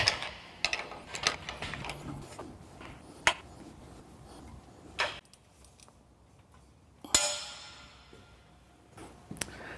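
Wrench ratcheting bolts snug into a corner plate on a Laguna KX24 CNC router stand, heard as scattered sharp clicks and ratchet bursts with quiet gaps, close by and moderately loud.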